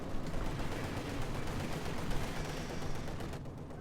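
Rifle fire rattles across a Company of Heroes 2 battlefield: a dense, continuous crackle of gunshots and battle noise that stays loud throughout the short stretch.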